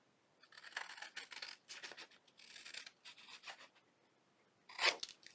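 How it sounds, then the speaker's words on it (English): Scissors cut through paper for a junk journal, giving a series of close, crisp snipping and rasping strokes in irregular bursts, with a sharper, louder snip near the end and no talk. "Let me use my scissors. I'll just cut it this way."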